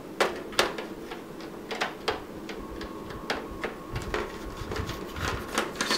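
Small metal screws are worked loose from the plastic base of a Sega Mega Drive II with a Phillips screwdriver, giving scattered close clicks and light ticks at an irregular pace over a low background hum.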